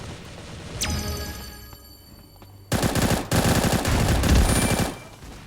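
Gunfire in the game Bullet Angel: Xshot: a single shot, then a loud rapid burst of automatic fire rattling for a couple of seconds, close and dense.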